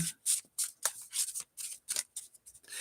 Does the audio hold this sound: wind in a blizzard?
no